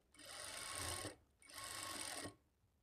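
A sewing machine stitching the lining of a blouse runs in two steady whirring bursts of about a second each, close and clear, with a short pause between them and no one talking.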